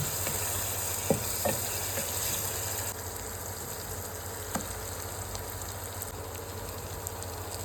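Chicken with tomatoes, salt and chili powder sizzles softly in a pan with a steady faint hiss, broken by a few light scrapes and taps as it is stirred.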